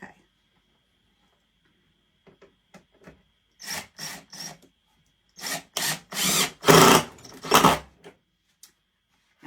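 A power drill drives screws into wood in a series of short bursts that grow longer and louder, separated by near silence and faint handling clicks.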